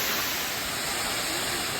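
Constant hissing rush of moving water from a creek and waterfall in the Ouachita Mountains, steady and fairly loud throughout with no voices.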